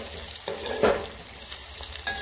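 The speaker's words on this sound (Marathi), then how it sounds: "हे आपण आता कांदा अद्रक लसूणची पेस्ट कढीपत्ता त्याला चांगलं फ्राय करू" Onion, ginger and garlic paste with curry leaves fries in a pot for sambar with a soft, steady sizzle, punctuated by a few stirring scrapes; quiet and close, with no talking.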